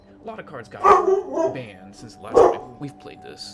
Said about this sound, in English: Excuse my dog for barking loudly there